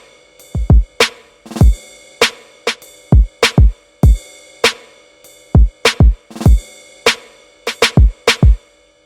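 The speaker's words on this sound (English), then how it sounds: "we got kick, snare, ride, and a counter snare. And this is how they sound all together." A punchy electronic drum beat in FL Studio loops steadily: deep booming kicks, sharp snare and counter snare hits and a ringing ride cymbal, loud and dry with no voices.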